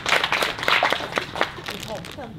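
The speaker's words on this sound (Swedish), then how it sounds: "Kan vi ge en applåd till Lukas, tycker jag?" An audience claps for a guest at a Swedish gathering, a short scattered round of hand claps that fades out as a voice starts speaking.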